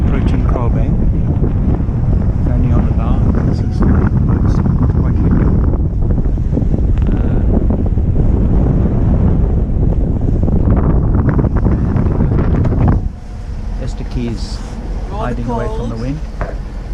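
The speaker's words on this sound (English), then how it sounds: "It's quite windy." Strong wind buffets a sailing boat on a Cape Town coastal cruise approaching Kraalbaai, with a heavy, continuous roar of gusts across the microphone that eases slightly near the end, where faint voices come through.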